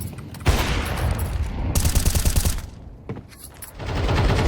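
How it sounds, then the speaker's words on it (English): Rapid gunfire barrage in Counter-Strike, dense overlapping rounds rattling nearly continuously across the stretch, loud and close, with brief lulls between bursts. "That's where the barrage of rounds all started with"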